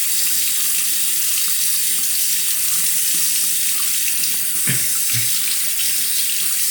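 Tap water runs steadily to rinse a straight razor's frameback blade during honing, a constant broadband splash with a couple of brief clunks near the end.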